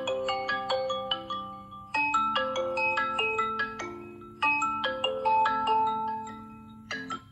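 A bright, melodic ringtone from a vivo Y100 phone plays loudly through its stereo speakers, a repeating chime-like tune in quick phrases that restart every couple of seconds, with no talking.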